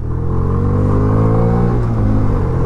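A Bajaj Freedom 125 CNG motorcycle accelerates on the road. Its loud, close engine drone climbs steadily in pitch under a constant rushing rumble, with no voices.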